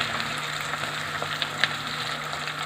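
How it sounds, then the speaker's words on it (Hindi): Fish fries in hot oil over high heat, a continuous fine sizzling hiss with small pops scattered through it, close and fairly even from start to finish. "ये मैंने 2 से 3 मिनट इस फ़िश को फ्राई कर लिया तेज़ आंच पे।"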